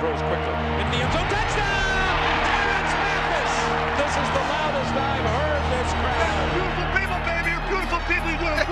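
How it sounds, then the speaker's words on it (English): A 1995 Atlanta Falcons football stadium crowd roars steadily and loudly after a touchdown, a sustained wall of cheering and shouting that stays dense and full throughout, with voices audible under the din. "This is the loudest I've heard this crowd."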